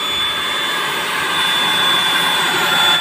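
A heat gun blows hot air onto a cracked fiberglass back seat cover of a Kawasaki Z200 motorcycle, a steady loud whooshing roar with a high whine, close and unbroken throughout.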